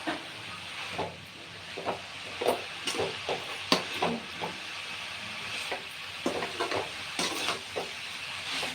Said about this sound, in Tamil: நல்லா இப்படி மிக்ஸ் பண்ணி விட்டுக்கிட்டு பொறுமையாக பண்ணணும்.